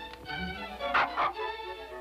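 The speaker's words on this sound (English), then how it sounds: "nice dog" A dog gives a few short yips and whimpering barks, with two louder barks close together near the middle, fairly close and alone over a faint steady hum.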